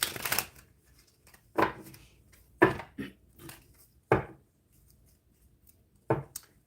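Tarot-style cards shuffled and pulled for a reading, heard as several separate brisk riffles and slaps with quiet gaps between them, close and fairly soft, with no talking.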